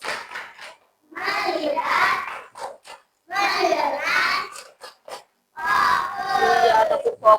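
A classroom of children chants loudly in unison in bursts, with sharp hand claps in the gaps between the chanted phrases and a rhythmic call-and-response pattern.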